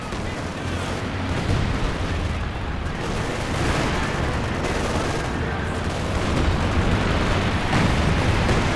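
A sector assault strike called in during a 1v1 match of the video game Company of Heroes 2, a sustained, loud barrage of artillery blasts and rapid gunfire layered into a dense, rumbling roar that swells toward the end.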